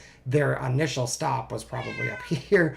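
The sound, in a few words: cat meowing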